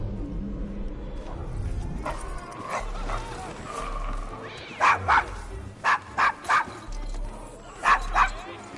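A dog in Assassin's Creed Syndicate, set in Victorian London's Devil's Acre, gives a series of sharp, close barks in quick pairs and threes, after some whining and background noise early on.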